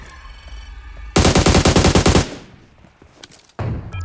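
Machine gun fire in PUBG Mobile: a loud, rapid sustained burst of automatic shots for about a second, then quieter rumbling, followed by another loud onset of gunfire at the end.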